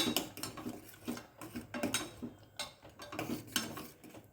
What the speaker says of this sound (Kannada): ಇವಾಗ ಒಂದು ಒಳ್ಳೆ ಮಿಕ್ಸ್ ಕೊಡೋಣ